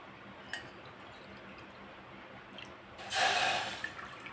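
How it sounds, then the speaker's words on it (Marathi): Water is poured into a pressure cooker holding rice, a short splashing gush about a second long after quiet drips and faint room noise. "आता या कुकरमध्ये आपण ज्या वाटीने तांदूळ घेतले होते त्याच वाटीने पाणी घेणार आहोत"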